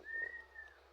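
A single pigeon call, a steady drawn-out tone lasting about a second, fairly near and alone with a low hum in the background.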